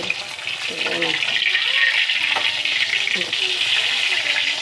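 Boneless milkfish (bangus) sizzling as it fries in a home kitchen, a steady bright crackle throughout with faint background voices underneath.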